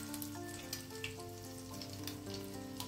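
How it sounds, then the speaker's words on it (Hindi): Chapli kebab patties fry in hot oil in a pan, giving a steady close crackling sizzle with small pops scattered across the short stretch and no talking. "इसके ऊपर एक टमाटर का स्लाइस रख के फिर इसे तलूंगी"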